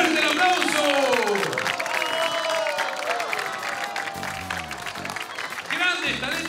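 A stage audience applauds steadily while a loud, excited voice talks over the clapping, with the crowd noise staying dense throughout.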